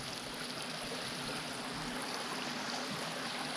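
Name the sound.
creek water flowing under a bridge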